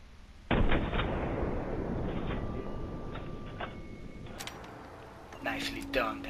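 A gunshot blast in the Fallout 4 video game, a loud boom that rolls off into a low rumble, followed by sparse clicks and soft game sounds.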